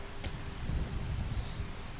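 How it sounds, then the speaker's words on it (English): Steady rain falls in Skyrim, heard from inside a building as a soft, continuous wash. It is fairly faint, with a dull low rumble beneath and no talking. "you'll actually be able to hear the rain inside buildings"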